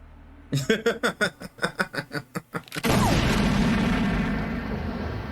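A gunshot from the 1982 film Blade Runner: a rhythmic run of pulsing thuds stops abruptly with a sudden loud blast. A dense rumbling roar follows and slowly fades.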